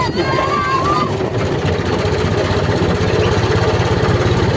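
A tractor's diesel engine chugs steadily and loudly at close range, a continuous throbbing run with no pauses.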